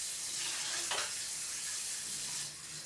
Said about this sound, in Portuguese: Já coloco a água aqui dentro da panela.